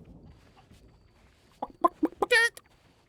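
A short burst of chicken clucks in a video game, several quick rising calls ending in a louder squawk, after a quiet stretch.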